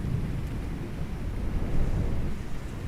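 Heavy tropical thunderstorm rumbling around an outdoor swimming pool in Phuket, a steady dense low roar of rain and distant thunder that stays loud and even throughout, with no voices.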